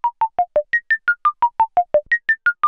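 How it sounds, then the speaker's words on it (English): A Moog Matriarch synthesizer sequence runs through a makeshift low-pass gate, giving around fifteen rapid, evenly spaced plucked tones in a rising and falling pattern. The notes are bright and close with soft decays, and nobody speaks. "Okay, here's the low-pass gate."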